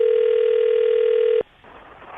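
A telephone line gives a single steady tone for over a second and then cuts off abruptly, leaving quiet line hiss as a radio show places its call.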